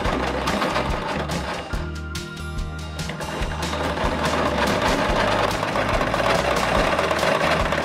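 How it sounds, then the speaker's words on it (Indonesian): Sewing machine stitching a shirt collar, a continuous fast mechanical whir and rattle of the needle running steadily and close for several seconds. "Kemudian jahit kerah tersebut."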